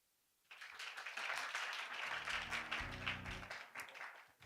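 Applause from an audience at a Korea AI Summit 2025 session, starting suddenly after a moment of quiet and holding as a fairly faint, steady clatter of clapping, with a low musical tone briefly sounding in the middle.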